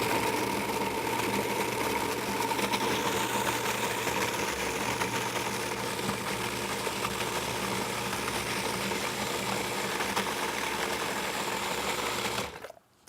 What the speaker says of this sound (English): If you want it smooth, just let the processor run a little bit longer.